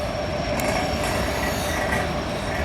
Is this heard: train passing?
yes